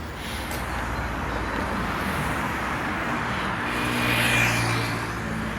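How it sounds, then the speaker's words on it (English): A city bus arrives on a street in Tbilisi, its engine rumbling steadily amid traffic noise and swelling slightly as it draws near, with no talking. "Is there a bus? There's a bus."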